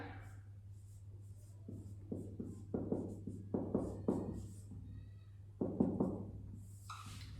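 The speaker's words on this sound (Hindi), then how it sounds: "मैं फार्मूला आपको इसमें लिखता हूं" Marker or chalk strokes on a board as a formula is written, a series of short scratchy squeaks and taps in irregular bursts, close and fairly quiet over a low steady hum.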